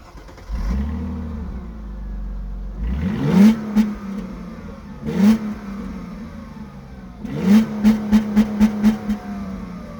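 A 2000 Mercedes E280 W210 engine cranks and starts, settling into idle, then revs sharply several times, ending in a quick series of short throttle blips.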